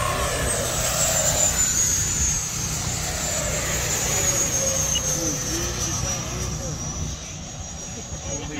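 Electric RC F-16 model jets fly overhead under throttle, a continuous whining, droning rush that holds steady and eases slightly toward the end, with voices talking faintly underneath.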